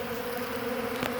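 Honeybees buzzing around their hives, a dense continuous hum close by with no talking.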